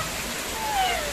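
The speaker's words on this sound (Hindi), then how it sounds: "बहुत बारिश तो कर रहा है" Heavy rain pours down in a continuous hiss, a steady wash of sound that fills the brief moment evenly and closely.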